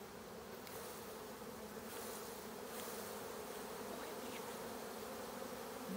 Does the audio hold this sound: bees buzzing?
yes